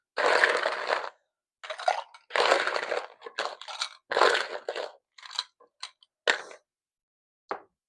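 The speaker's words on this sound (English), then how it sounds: "we are going to actually put the ice directly into our glass here" Ice cubes dropped into a mojito glass over rum, a series of close, loud clinks and rattling crunches in uneven bursts with short pauses, ending in a single faint clink.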